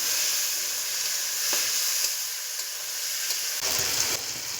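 Tomatoes and four green chillies sizzle and fry in hot oil in a home kitchen, a steady close hiss with occasional stirring scrapes and a louder burst of crackle near the end.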